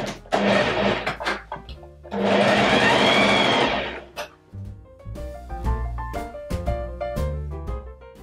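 A sewing machine stitches a fabric Christmas crown in two loud, sustained whirring runs, followed by shorter stop-start bursts as the stitching works around the points.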